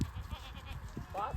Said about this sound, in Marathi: बघा आता मेंढ्या दाखवतो तुम्हाला.